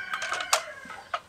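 A rooster crows nearby in a peach orchard during pruning, with a few short bright calls and clucks in quick succession against quiet outdoor background.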